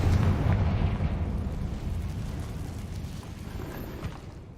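Confringo blasting spell explosion in Hogwarts Legacy inside a cave, a loud, deep boom at the start that rumbles and slowly decays over several seconds, with debris crackling as it fades.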